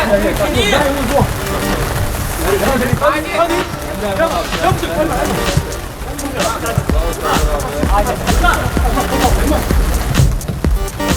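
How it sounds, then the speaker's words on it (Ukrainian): Rain falls during an amateur 8-a-side football match in the Kyiv championship, making a steady broadband hiss throughout under continuous commentary. "Ось вам і дощ, друзі."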